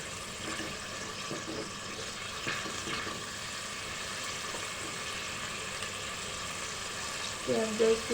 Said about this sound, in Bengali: পেঁয়াজটা একটু ভাজা হয়েছে